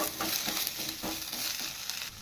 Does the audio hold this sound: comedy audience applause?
no